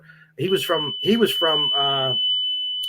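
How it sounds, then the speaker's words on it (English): A fire alarm sounds a steady, piercing high-pitched tone that holds unbroken beneath a voice as he talks. "Oh, that's just a fire alarm."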